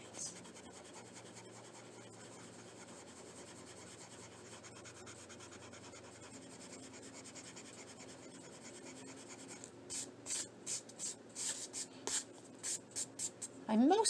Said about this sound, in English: now I'm going to use my eraser, and I'm going to very gently erase the extra lines